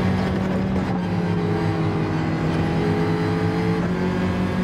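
Race car engine in Gran Turismo on PSVR2, a steady loud drone with sustained tones and a brief shift in pitch near the end, held behind a slower rival while waiting for a straight.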